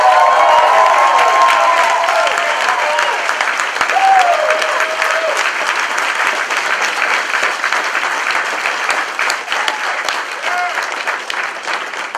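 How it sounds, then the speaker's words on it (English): A seminar crowd at a leadership talk gives sustained applause with scattered cheers and whoops, loud and dense at first and slowly easing, with voices calling out over the clapping. "Give yourselves a round of applause"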